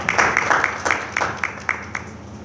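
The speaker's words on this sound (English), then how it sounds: "Let's clap our hands and welcome her." A church congregation claps in a quick, even rhythm to welcome a sister, with about nine distinct claps in steady succession at moderate loudness and no talking over them.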